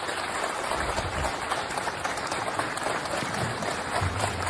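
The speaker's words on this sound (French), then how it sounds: "si, ce sont des applaudissements" Sustained, fairly faint applause from a crowd on a farewell day, a dense patter of clapping that holds steady throughout without voices on top.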